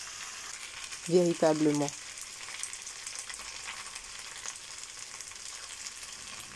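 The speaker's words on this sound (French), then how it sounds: "je remue et j'ajoute mes frites de pommes. Je mélange également." Apple fries being stirred in a frying pan while preparing a pasta salad, with a steady, fairly quiet sizzle running throughout and a brief spoken word near the start.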